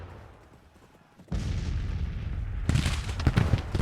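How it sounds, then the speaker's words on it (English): Musket volleys ring out in a Civil War battle video game, starting with faint distant crackle, then a sudden loud burst of massed fire and a denser, sharper fusillade of overlapping shots. "Now these men are firing a little bit."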